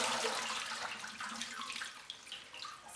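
Kitchen tap water running into a sink while sweet potato leaves are washed for Congolese matembele, a steady close hiss and splash that eases off slightly toward the end, with no voices.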